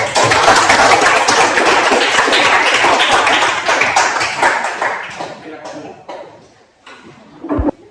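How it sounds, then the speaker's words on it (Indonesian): A classroom of students applauds a presenting group, loud, dense clapping that holds steady for several seconds, then thins into scattered claps and fades out, with a faint voice near the end. "Berikan tepuk tangan untuk kelompok 4"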